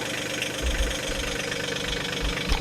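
A tractor engine idles steadily on a Texas property, a low continuous rumble with uneven knocking pulses underneath, close by and without talk.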